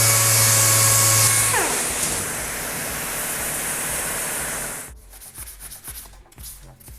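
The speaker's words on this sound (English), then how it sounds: "I will sand all the other parts, places here, and then I can prime it." A power sander works over Ducati XDiavel motorcycle parts before priming, a loud, steady whirring grind that winds down after about five seconds, followed by quieter scraping rubs.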